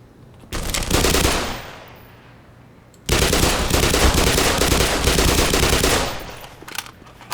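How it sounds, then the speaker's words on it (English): Heavy suppressive automatic gunfire in the shooter game Black Mesa, with a short loud burst, then a longer sustained barrage that fades out, close and dominant. "Lots of suppressive fire, lots of grenades."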